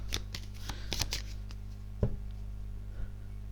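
Tarot cards being shuffled and drawn during a reading: a run of quick papery riffles and soft slaps in the first second or so, a sharper card snap near two seconds, then quieter shuffling, close up over a steady low hum.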